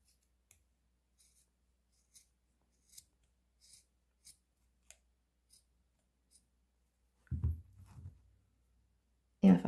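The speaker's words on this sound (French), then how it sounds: "Donc on va venir couper." Scissors snip macrame cord for a child's headband, a series of small, crisp, evenly spaced cuts close by in a quiet room, followed by heavier handling thumps toward the end.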